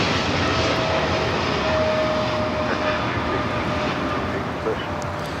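Korean Air Cargo Boeing 777 freighter taking off at Los Angeles LAX, a steady jet engine roar heard from a distance with faint talk in the background.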